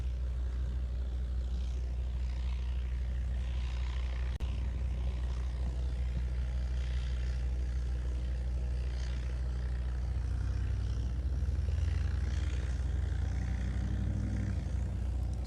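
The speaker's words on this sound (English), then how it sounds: "Looks like the Southwest just got clearance for takeoff" A Southwest airliner takes off at Honolulu airport, heard as a low, distant engine rumble that holds steady and swells slightly louder toward the end, with no voices.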